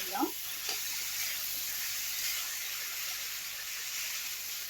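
Pigeon meat fries uncovered in oil for an Assamese curry, giving a steady bright sizzle that runs evenly throughout, with a faint stir or clink near the start.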